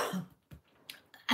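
A few short coughs and throat clears, near and fairly quiet, with brief pauses between them and no speech.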